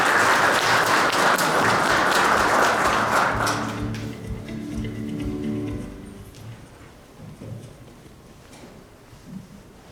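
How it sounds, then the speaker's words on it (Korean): Loud, dense applause from the audience at a memorial ceremony for the late chairman Park Tae-joon's tenth anniversary, filling the first four seconds before tapering to scattered claps and a quiet hall. "모두 큰 박수 부탁드립니다."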